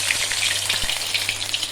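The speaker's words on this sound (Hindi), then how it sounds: "वन बाय वन इसी तरह हमने सारी ड्रम स्टिक्स जो है इसमें डाल लेनी है।" Chicken drumsticks crackle and hiss in hot oil in a kadhai, a steady, close, loud sizzle with a brief low knock partway through.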